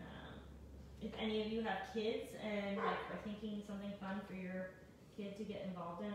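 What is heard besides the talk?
dog barking in the background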